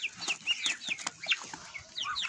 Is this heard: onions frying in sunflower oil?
no